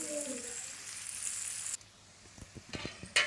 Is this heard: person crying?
no